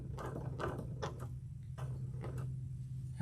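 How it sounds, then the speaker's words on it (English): Sewing machine running along a fabric edge to tack it down, a steady low motor hum under rhythmic ticking needle strokes at close range. "And just sew along the edge and tack that down."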